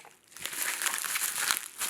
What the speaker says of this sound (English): Let's go ahead and we're going to take this tape off. So we'll just cut right there.